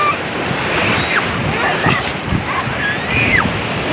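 Sea surf rolling in over people playing in the shallows, a loud, steady wash of waves with gusty wind buffeting the microphone throughout.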